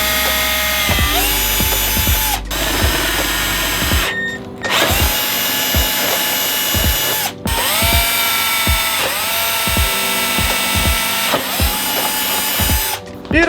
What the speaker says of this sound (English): So let's drill those babies out.